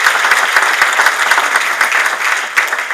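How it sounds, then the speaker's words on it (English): A dense round of audience applause at an evening sports conference awards ceremony, steady and close clapping from a crowd for a team sports apparel sponsor, with no talk over it. "applaud one of our wonderful sponsors for tonight's event"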